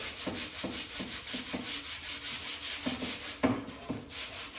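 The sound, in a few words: hand sanding motorcycle bodywork with 180 grit on a block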